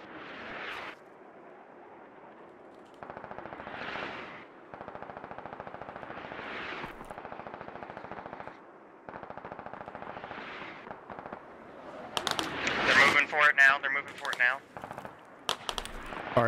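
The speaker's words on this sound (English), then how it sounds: "Hey, team, we're getting shot from the northeast." Automatic gunfire in the military shooter game Squad rattles in long sustained bursts, then grows louder and more chaotic near the end, with a voice talking over it on the radio.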